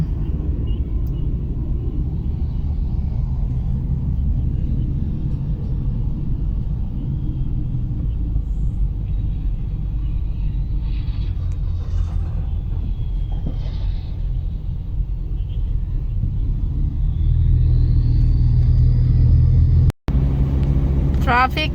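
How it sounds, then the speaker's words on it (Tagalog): Road traffic makes a steady, loud low rumble from inside a vehicle, continuous throughout and swelling near the end, with no talking over it. "Traffic guys."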